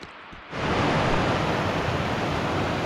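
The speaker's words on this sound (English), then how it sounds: "There's that basin with all the waterfalls coming down into it, way up there." Roar of about a dozen waterfalls pouring down from a mountain into a basin, a dense steady rushing wash that starts abruptly and continues loud and unbroken.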